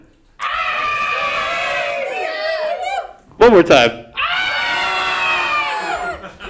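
A live audience at a storytelling and jazz show in Kaslo screams together in two long, loud, sustained bursts, broken by a short burst of excited shouts between them.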